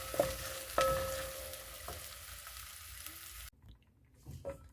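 Red onions frying in a pan for an egg curry, a steady broadband sizzle with a few brief clinks of a utensil, continuing for a few seconds before dropping away to a quieter, fainter background.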